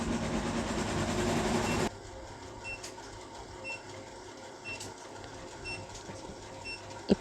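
Sewing machine stitching a school uniform collar, running as a steady loud whir for about two seconds, then a quieter mechanical hum with faint ticks for the rest. No one speaks.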